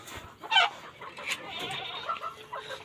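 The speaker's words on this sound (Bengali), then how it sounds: "আর এই পাশে আমার দেশি মুরগিগুলো" Desi chickens clucking in a backyard pen at feeding time, with short scattered clucks and a louder burst near the start over a soft ambient background.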